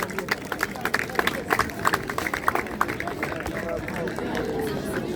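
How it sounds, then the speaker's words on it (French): A crowd claps for the volunteer referees at a medal and trophy presentation for a Brussels tournament. Many hands give dense, steady applause for several seconds, with voices murmuring underneath. "On peut les applaudir."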